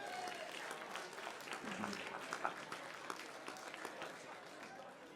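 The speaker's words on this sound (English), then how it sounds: "Let's give them a round of applause." Audience applause at an awards program honoring committees, a fairly faint, steady patter of clapping from a banquet crowd with some voices underneath.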